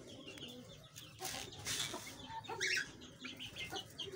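A hen clucks quietly in short bursts amid faint farmyard background noise, with a few sharper calls near the end.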